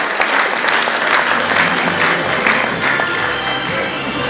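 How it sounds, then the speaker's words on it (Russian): A concert-hall audience at a city-day celebration breaks into loud, lively applause with some cheering, a thick wash of clapping that swells and rolls on for the whole stretch, with no voice on top. "Ваши аплодисменты этим людям тоже"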